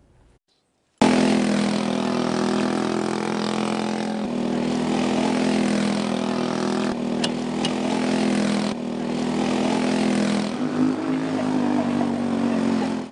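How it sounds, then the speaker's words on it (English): A go-kart engine races on a dusty dirt track, a loud, sustained buzzing drone with rises and dips in pitch as the kart speeds along, close by after a quiet start. "The sound of the engine"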